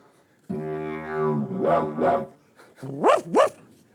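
A didgeridoo imitates a dog bark: a short droning tone, then a few sharp, yelping bark-like bursts in two quick pairs, close and fairly loud.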